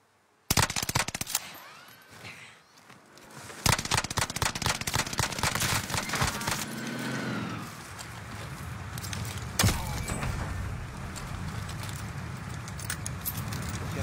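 Video game explosion and gunfire: rapid bursts of sharp automatic shots, then a rumbling blast with crackling debris, a later sharp crack, loud against continuous game background.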